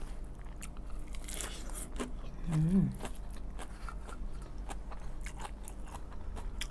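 Crisp crunching bites into pickled mustard greens eaten alongside a coconut-milk fish-innards curry, a few close, brittle crackles over a steady low hum with a brief voiced sound midway.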